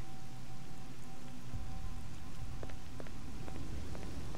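Steady rain in the video game Lost Alpha, a dense even hiss with scattered sharper drip-like ticks, heard alone with no voices.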